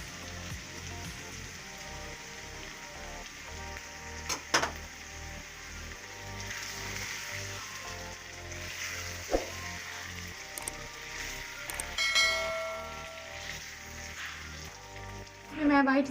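Yogurt goes into masala frying in a pot for mutton kadai, giving a steady soft sizzle with occasional clinks of a utensil and a voice over it.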